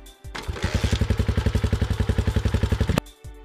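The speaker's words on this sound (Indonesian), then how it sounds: "setelah siap ia lalu menghidupkan mesin motornya" A Honda Beat motorcycle engine starts up after a brief click, settling into a fast, even putter of regular pulses for a few seconds before cutting off abruptly, close and fairly loud.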